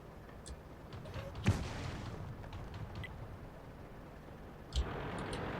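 Artillery fire in the World of Tanks game: two distant, muffled booms about three seconds apart, each a short low thump standing out over a steady background rumble.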